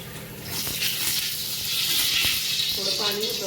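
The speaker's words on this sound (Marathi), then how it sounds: "याच्यात टाकत आहे मी तेल." Oil poured into a pot already hot from steaming rice, giving a hissing sizzle that swells and settles over a few seconds, with a voice speaking faintly beneath it.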